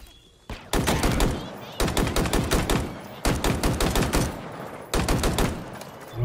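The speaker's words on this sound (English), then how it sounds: "Let me just test this weapon for a second." A weapon in the Halo Infinite campaign fires in four loud bursts of rapid automatic gunfire, each burst a dense string of shots separated by brief pauses.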